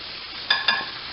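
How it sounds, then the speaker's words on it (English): Chicken fries in hot grease with a soft, steady sizzle close by, and two quick clinks or stirs cut in briefly near the middle of the short stretch. "the grease is really going now. I am going to turn my heat down a little bit so we can keep it just sizzling like that"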